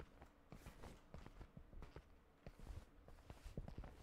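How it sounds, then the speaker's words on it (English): Footsteps in a tactical shooter video game, a faint, uneven series of muffled thuds as if from a floor above, quiet and fairly distant with no talk. "I hear footsteps upstairs for sure."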